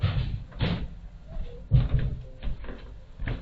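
An oddly built door at home being opened and closed, giving several soft dull thumps and knocks with rustling and shuffling in between, close by and fairly quiet.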